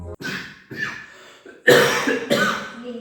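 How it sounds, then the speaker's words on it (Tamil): People cough repeatedly and loudly during a sneezing challenge, several harsh bursts in quick succession, the last two strongest and close to the microphone. "இதெல்லாம் இருமல்பா."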